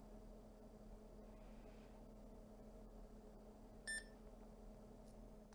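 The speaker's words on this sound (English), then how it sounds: "we should hear a beep" A rare IBM PC clone gives a single short, high power-on beep over a steady low hum of cooling fans.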